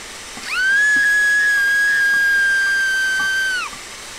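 A single steam locomotive whistle from Train Simulator 2015, a loud steady shrill tone that rises in quickly, holds for about three seconds, then drops away, heard alone over a faint hiss.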